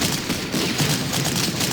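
Dense, continuous gunfire from the World War II strategy game Panzer Corps, a steady rattle of overlapping shots filling the whole moment at fairly loud level, with no talk over it.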